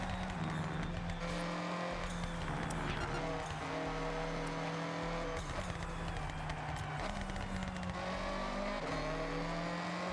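A car engine in the Forza Horizon racing game holds a steady, droning full-throttle roar, with pitch rising and dropping through gear changes across the whole stretch, under faint talk.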